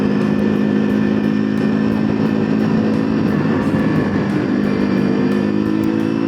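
A small MZ 125 SM motorcycle engine runs continuously at cruising speed on small woodland roads, a loud, steady buzzing hum with a faint ticking rattle on top.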